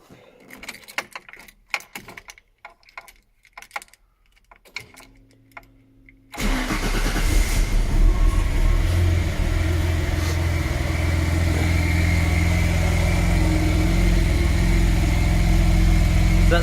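A Noble M12 GTO 3 with a newly fitted exhaust valve cranks over with a few clicks and clunks, then catches and settles into a loud, deep, steady idle that runs on uninterrupted.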